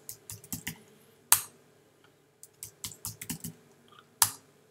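Computer keyboard keys clack in quick bursts while a root password command is typed, with a louder single keystroke at intervals, probably the enter key, and short pauses between groups of taps.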